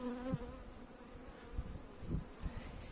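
Close, steady droning hum of many Italian honey bees buzzing at a hive entrance board in early spring, with a few soft knocks and bumps underneath.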